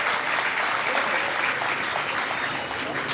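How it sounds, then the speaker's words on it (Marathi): Steady applause from a crowd at a birthday event, dense and continuous throughout, fairly close and loud with no break. "आता दुसऱ्या टाळ्या कोणासाठी वाजवायच्या"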